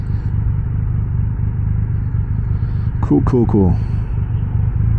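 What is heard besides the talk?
Triumph Rocket 3 GT motorcycle engine pulling off in first gear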